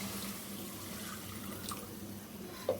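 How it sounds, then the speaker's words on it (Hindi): A little water is poured into a pan of fried chicken while cooking chicken macaroni. It makes a faint, steady watery hiss with a small splash near the end, and there is no talking. "अब इसमें थोड़ा सा पानी डाल के"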